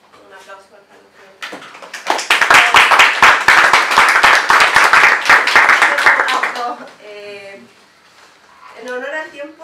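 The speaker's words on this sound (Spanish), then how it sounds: "Un aplauso para el" Audience applause at an academic talk on Mapuche spirituality and climate adaptation, a burst of dense clapping that rises sharply, holds for several seconds, then fades as a voice speaks before and after.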